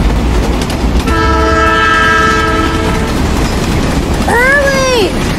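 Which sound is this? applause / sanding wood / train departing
train departing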